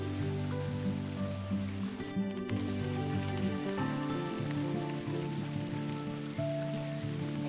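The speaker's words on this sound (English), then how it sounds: "Oh, it's raining in the game." Steady rain falls in the Virtual Families 2 video game, a continuous patter under a bed of game music, even and moderately loud for the whole stretch with no talk.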